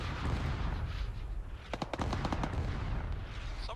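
Gunfire in a military video game: rapid bursts of automatic shots crack out in the middle of the clip over a steady rumbling background, loud and close.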